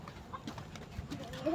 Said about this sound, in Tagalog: Ayan, may manok.